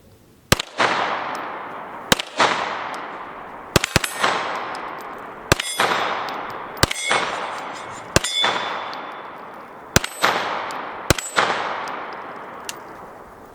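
An M17 pistol firing ammunition with light primer strikes: a series of sharp, loud, ringing metallic shots spaced a second or two apart, each leaving a lingering echo.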